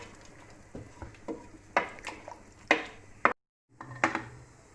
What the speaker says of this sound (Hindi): अब मैं इसको कुकर को बंद कर दूँगी